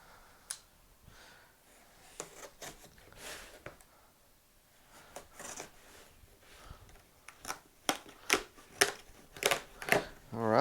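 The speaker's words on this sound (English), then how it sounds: "Let's open up. Let's see what's inside this box." Cardboard product box for an LED headlamp beanie being opened, with scattered rustles, soft taps and crinkles building to a quick run of sharp, close snaps and flaps of packaging near the end.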